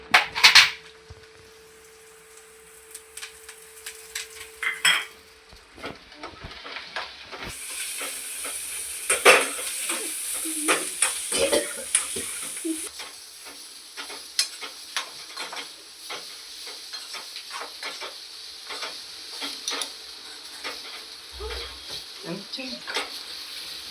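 Spiced ghughra filling with ginger-chili paste and garam masala frying in a pan, steady sizzle and hiss broken by frequent spoon scrapes and clanks against the pot, close and moderately loud throughout.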